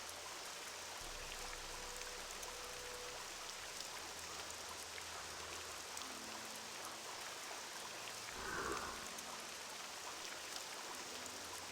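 Steady rain hisses at a constant level through a nighttime scene in a fantasy role-playing video game, with a low rumbling bed beneath it and a brief swell of splashing near the end.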